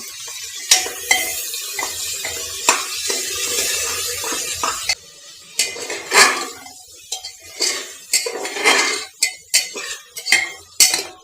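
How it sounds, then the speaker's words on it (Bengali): Chicken pieces frying with salt and turmeric in a pan, metal utensils scraping and clanking loudly against the pan over a continuous sizzle, with rapid stirring strokes in the second half. "এবার আমি মাংসটাকে ভেজে নিব"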